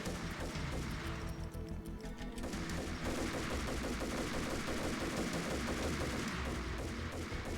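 Gunfire in Max Payne, a dense, continuous rattle of rapid shots and impacts, loud and close, running through the whole stretch with a brief thinning early on.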